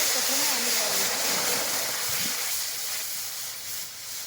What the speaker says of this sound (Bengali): চপ বানানোর জন্য কড়াইতে দিয়ে দিচ্ছি জল